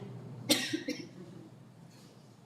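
A single sharp cough, followed by a smaller second cough and quiet breathing, with another cough starting at the very end.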